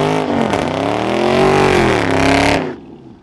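A 2020 Dodge Charger Scat Pack V8 revving hard close by, its loud throaty note rising and falling over about two and a half seconds before cutting off abruptly.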